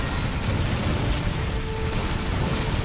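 Dense, continuous explosions and booming blasts from the Transformers Devastation video game on PS4 roar steadily throughout, loud and rumbling with no pauses.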